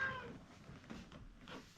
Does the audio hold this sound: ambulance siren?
no